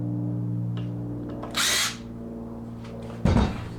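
A power drill drives 1.25-inch exterior flathead screws into a wooden cold frame, two short whirring bursts over a steady motor hum, close and fairly loud.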